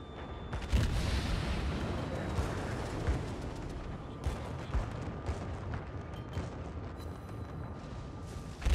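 Naval gunfire in World of Warships ranked battles from the heavy cruiser Atago: rumbling booms and cannon blasts with crackling impacts, sustained and fairly loud throughout, ending on a sharp blast.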